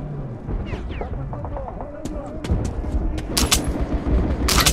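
Gunfire in the video game Metro 2033, a run of sharp broadband cracks and bursts that grow denser and louder toward the end, mixed with game ambience.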